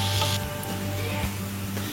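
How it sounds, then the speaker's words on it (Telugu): Ginger garlic paste and onions fry in oil for kadai chicken, giving a continuous close sizzle with a faint stir or two, no speech. "వేసుకొని వీటిని కొంచెం రెడ్గా అయ్యే వరకు కొంచెం ఈ విధంగా ఆయిల్లో ఫ్రై చేసుకోవాలి మనం"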